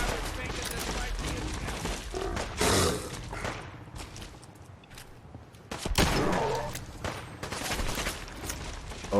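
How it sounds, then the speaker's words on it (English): Super mutants fire guns in Fallout 4, with dense bursts of rapid gunfire in several loud clusters separated by quieter gaps, all under continuous game sound. "are the super mutants shooting me now?"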